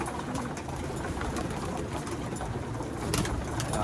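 Pigeons coo steadily through a dense bed of fluttering and shuffling from a flock of auction birds kept for hand-landing training, with no talk.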